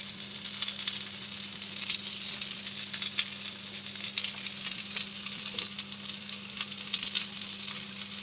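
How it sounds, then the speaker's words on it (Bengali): Chopped onions fry in hot oil in a wok for an egg curry, giving a steady, continuous sizzle that hisses evenly and close by for several seconds with no voices. "দিয়ে দিব পেঁয়াজ কুচি পেঁয়াজটা একটু ভালো করে ঝুঁঝি করে কেটে নেবেন"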